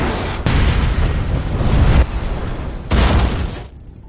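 A bag packed with explosives blows up in an action film, a loud rumbling explosion with deep roaring debris and repeated heavy bursts that fade out over several seconds.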